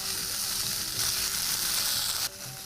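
Fenugreek leaves, about 100 grams, hit a pan of hot oil with asafoetida and sauté in a steady close sizzle that swells louder after a second, then drops back near the end, with no voices.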